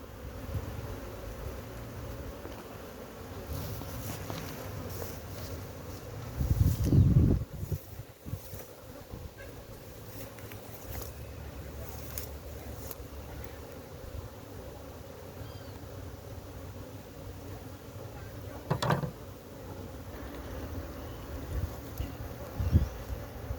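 Steady buzzing drone of a swarm of Africanized honey bees around a wild colony being captured in Guyana, continuous and moderately loud, with wind rumble and a few handling bumps.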